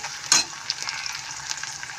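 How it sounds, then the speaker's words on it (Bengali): Onion frying in oil until reddish, with bay leaves added, produces a continuous, close sizzle with a brief louder spatter near the start. "এটাকে ভালো করে লাল করে আমি ভেজে নেব।"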